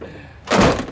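An aftermarket supercar-style door on a car swings shut with a single solid thunk, heard close and loud after a brief quiet moment.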